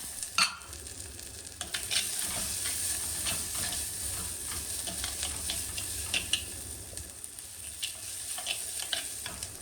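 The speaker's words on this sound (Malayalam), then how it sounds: "ഇനി ഇതെല്ലാം കൂടി നല്ലോണം നിങ്ങൾ വഴറ്റിയെടുക്കുക" Sliced onion and shallots sautéing in a pan, a steady sizzle with repeated scraping, clinking stirs throughout, close and moderately loud with no talk.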